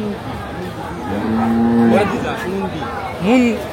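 Cattle moo at a busy Eid livestock market in Bangladesh, a long low drawn-out moo in the middle followed by a shorter one near the end, over crowd chatter and voices.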